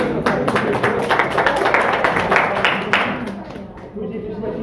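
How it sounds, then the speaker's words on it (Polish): Audience applause in a hall at a sales presentation, a dense steady patter of many hands clapping that fades slightly toward the end. "brawa raz jeszcze"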